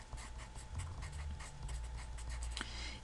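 Pen scratching out a math formula on a surface, a run of short, soft, rhythmic strokes close up over a steady low hum.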